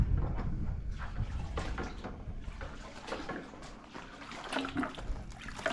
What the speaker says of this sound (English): So I'm doing as they suggested and rinsing everything in water.